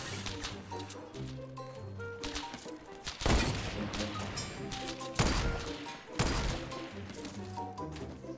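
Fortnite sniper shootout with several heavy, booming gunshot blasts among busy game effects and music, loud and close, with faint voices underneath.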